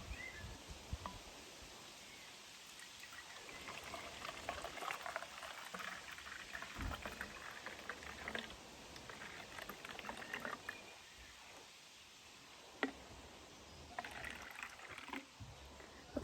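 Water, plain or coloured, being poured into a bottle until it is about half full, a steady close splashing trickle that rises and falls in intensity with brief pauses, with no talk.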